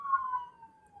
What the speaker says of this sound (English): I was letting the ambulance go by.